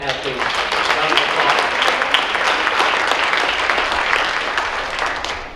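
Strong, sustained applause from the crowd at a high school athletic awards night, continuous clapping filling several seconds with some voices mixed in.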